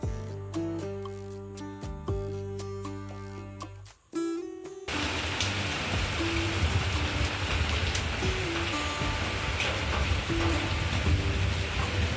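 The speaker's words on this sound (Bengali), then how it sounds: "বৃষ্টি শুরু হয়ে গিয়েছে ঝমঝমিয়ে হচ্ছে" Music plays briefly, then heavy rain takes over, a dense, loud, steady downpour drumming on surfaces.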